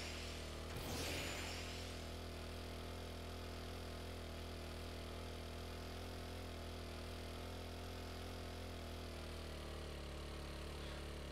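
In 7 Days to Die, a turbo-injection motorbike engine hums steadily like a lawnmower, a constant buzzing drone with a brief rev near the start, otherwise unchanging and moderately quiet.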